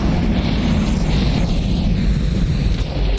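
An explosion in the Minecraft video game: a dense, loud rumbling blast with crackling debris sustained across the whole short stretch, heavy in the low end and without speech.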